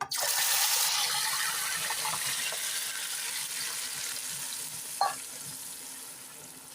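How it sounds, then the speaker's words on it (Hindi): Milk-soaked bread hits hot caramel in a pan, setting off a continuous sizzle with faint stirring and scraping throughout, plus one short clink partway through. "अब ब्रेड को जो हमने दूध में मिक्स किया था वो ऐड कर लेंगे।"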